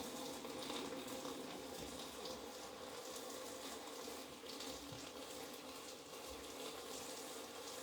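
A kitchen sink tap runs steadily while the water heats up, a continuous even gush of moderate loudness with no talking.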